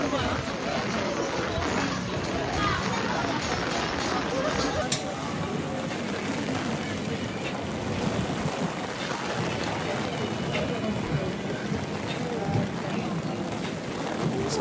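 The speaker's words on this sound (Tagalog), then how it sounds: "Lakas ng ulan guys." Heavy rain pours down in South Korea as a dense, steady roar that fills the whole span, loud and close, with voices talking faintly in the background.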